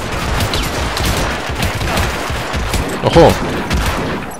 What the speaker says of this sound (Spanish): Pues nada, vamos a tener que liarnos a tiros.